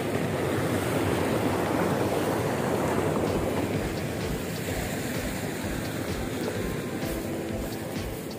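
Water rushes steadily into a 4-inch hydraulic ram pump through its opened, screened intake, a continuous broadband wash like surf or a small waterfall that holds loud and unbroken throughout.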